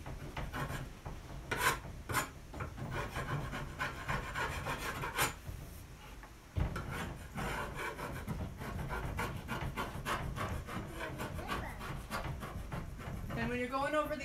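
Rough, repeated scraping strokes of a tool rubbing paint off wood to get a chippy finish, close and steady with rasping bursts and brief pauses.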